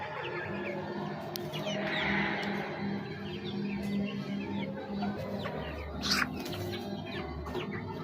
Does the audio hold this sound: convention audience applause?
no